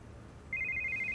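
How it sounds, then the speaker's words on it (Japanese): A telephone in the video game Yakuza 5 starts ringing about halfway through, a steady electronic trill over a low, quiet in-game background hum. "電話やね。"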